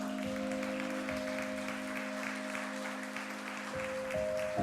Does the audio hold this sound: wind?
no